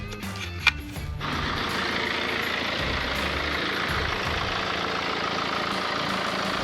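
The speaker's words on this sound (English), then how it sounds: "So here it is, the engine's running." BMW 318d with the N47 diesel engine idling after a DPF replacement, a steady, even diesel rumble heard close up with a brief click near the start.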